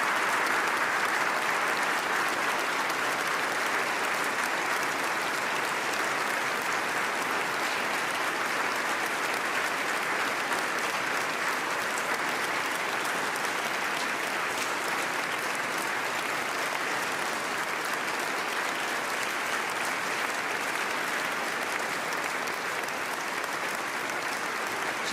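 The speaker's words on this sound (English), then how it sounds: "applause from the assembled guests here in Oslo City Hall" Sustained applause from the assembled guests at the Nobel Peace Prize ceremony in Oslo City Hall, a dense, even roar of clapping from a large crowd that holds steady for the whole stretch with no talk.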